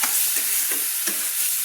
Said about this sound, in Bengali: এবার আমি সুন্দর করে মশলাটাকে কষিয়ে নিচ্ছি